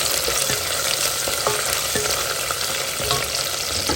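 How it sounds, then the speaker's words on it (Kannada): Onion and fresh green peas fry in a pan with a loud, steady sizzle, broken by repeated scraping stirs; no one speaks. "ಸ್ವಲ್ಪ ಹುರ್ಕೊಳ್ಳೋಣ ಈರುಳ್ಳಿ ಹಾಕ್ಕೊಂಡು ಹಸಿ ಬಟಾಣಿಯನ್ನು ಹಾಕ್ಕೊಳ್ತಾ ಇದ್ದೀನಿ"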